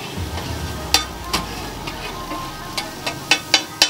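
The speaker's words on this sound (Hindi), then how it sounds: "अब ये कबाब फ्राई हो रहा है, ये इधर बीफ कबाब और इधर टिक्कियाँ फ्राई हो रही हैं।" Beef kebabs and tikkis fry on a hot griddle at a street food stall on Temple Road. A soft, steady sizzle runs underneath, broken by sharp metallic taps that grow more frequent toward the end.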